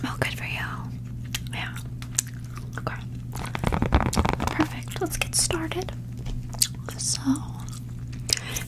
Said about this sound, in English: I'm just gonna pop in some gum.